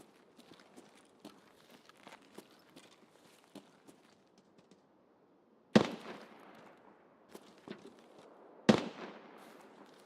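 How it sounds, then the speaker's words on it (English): Sniper scav gunshots in the game Escape from Tarkov: two loud, sharp shots several seconds apart cut through a steady background of soft tapping and rustling, each followed by a short decaying tail. "That's the sniper scav shooting at somebody."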